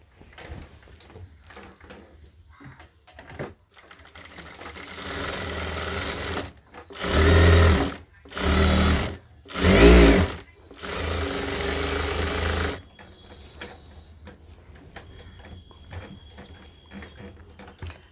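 A sewing machine stitches a double seam along the lower edge of pajama trousers in several loud, close bursts of rapid whirring separated by short pauses, with quieter handling sounds before and after.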